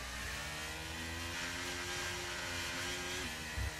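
McLaren race car engine in a racing video game, set at Brazil, revving loudly and steadily as it draws alongside and passes, with a sustained engine tone and a brief bump near the end.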